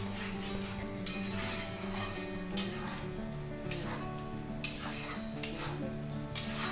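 Spinach for palak paneer, cooked in a little oil, sizzles in a pan while a utensil scrapes and stirs it in repeated sweeps, close up with clinks against the metal and no speech.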